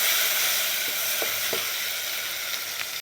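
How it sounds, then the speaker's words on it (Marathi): Masala paste for a village-style Maharashtrian mutton curry sizzles steadily as it roasts in hot oil, a constant crackling hiss with a few soft stirring clicks, ending abruptly. "तर इथं बघा आपण मसाला असा भाजून घ्यायचा आहे"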